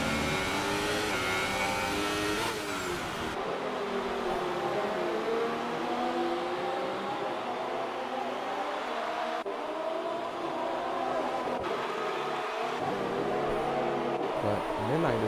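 Formula 1 cars in a video game race at the German Grand Prix, engines howling and rising in pitch as they accelerate through gears, loud and close with continuous whine and shifts throughout.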